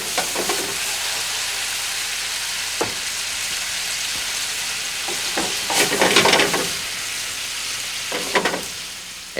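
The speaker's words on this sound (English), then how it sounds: "We pour in the red wine." Red wine poured into a hot pan of sautéed shallots gives a steady loud sizzle, with bursts of sharper hissing and crackle midway and near the end.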